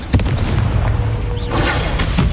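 A fire spell cast in the video game Hogwarts Legacy, heard as a loud, sustained booming whoosh with a sharp burst at the start and a second flare-up near the end, filling the whole moment.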